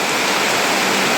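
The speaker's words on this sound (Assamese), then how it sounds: "বৰষুণ আৰু পানী একেলগে আহিছে" Heavy rain pouring down as a loud, steady, dense hiss with no pauses, close and filling the whole moment.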